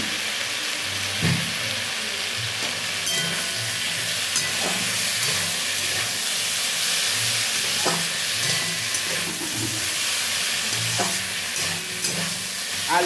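Potatoes fry in a pan with salt, turmeric, Kashmiri red chilli powder and kasuri methi, a steady close sizzle broken by irregular scraping and stirring knocks, with no voices.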